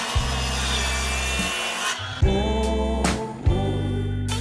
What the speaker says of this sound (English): we're cutting off a rough cut of these edges to, one, get rid of some weight